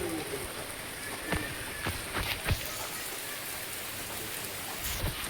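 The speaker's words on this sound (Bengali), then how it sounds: "জলটা দেখো ভালোই বেগে আসছে" Rainwater rushes fast through a freshly cleared drain in muddy ground where a pandal is going up: a steady, close wash of flowing water with a few sharper splashes and taps scattered through it, and no talking.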